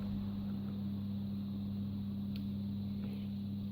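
A Monsieur Cuisine kitchen machine mixes yogurt cake batter at speed 2 with no heat, its motor giving a steady, even hum with no other sound.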